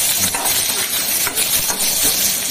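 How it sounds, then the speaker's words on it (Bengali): Bay leaves and other ingredients for bhuna khichuri frying in a pan, a loud close continuous sizzle and hiss with faint stirring scrapes, without voices. "একটু ভেজে নিই।"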